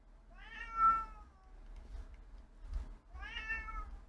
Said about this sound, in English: Sorry, I have a cat.